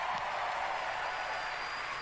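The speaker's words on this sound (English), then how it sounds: "Another round of applause, please, for Marty Hugo and all of our presenters" Audience applause at the Bethesda E3 2019 presentation, a steady wash of clapping from a large crowd heard at a distance, fairly faint and unbroken throughout.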